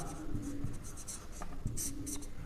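Chalk or marker scratching across a classroom board in a lesson on the solar system, quick continuous strokes and taps, close and clear with no talking.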